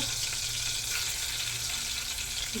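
Steady, dense sizzling of food frying in hot oil in a pan, loud and close throughout with no talking.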